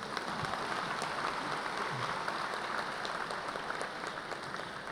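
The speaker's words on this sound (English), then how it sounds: "You can go ahead and clap on that." Steady applause from a graduation audience at a high school commencement, a dense, even patter of many hands clapping at a distance for about five seconds with no voices on top.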